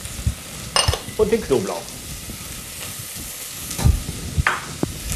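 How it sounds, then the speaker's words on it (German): Onions, carrots and leek sauté in hot olive oil in a pan, a steady soft sizzle with stirring clinks and a voice briefly speaking over it. "Olivenöl, dazu die Zwiebeln rein, Karotte dazu, Lauch dazu"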